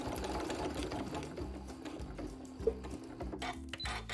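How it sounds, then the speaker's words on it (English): A sewing machine back stitches to secure Velcro onto quilting fabric, running in a steady rapid mechanical whir with a rhythmic needle chatter. Close and continuous, it slows briefly in stop-start pulses. "And then we'll do a back stitch there to lock that in place as well."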